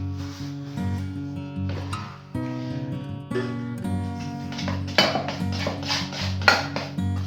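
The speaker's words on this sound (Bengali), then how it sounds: "ভালো করে মিশিয়ে দাও, ভালো করে মিশিয়ে দাও।" Batter for paneer pasanda is mixed in a bowl, a spoon clinking and scraping against the sides in uneven strokes, with sharper knocks toward the end, close up and free of speech.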